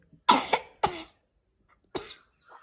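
A child coughs, a close, loud double cough followed by another single cough after a pause, with a faint murmur at the end.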